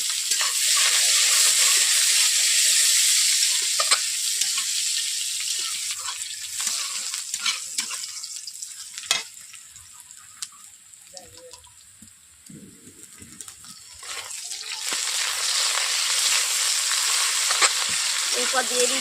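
Chopped onion hits hot oil already reddened with five-spice (panch phoron) and chilli, giving a loud, steady sizzle that fades midway, then swells again with stirring scrapes and faint trickling water. No voices.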